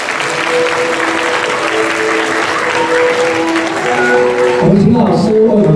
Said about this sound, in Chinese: 请给我们掌声鼓励